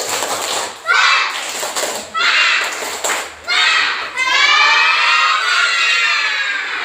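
A classroom of children repeats a rhythmic spirit-clap chant in unison, loud and near, with bursts of shouted syllables and claps separated by brief gaps, finishing in a drawn-out cheer.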